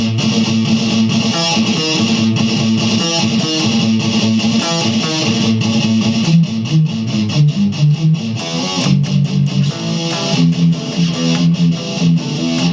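A distorted electric guitar plays a chugging power-chord riff, steady and loud, with chords shifting in a repeating pattern.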